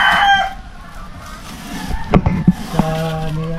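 Roosters crowing among a flock of chickens at a gamefowl farm, with a few close, loud crows and clucks over a quieter background, no talking.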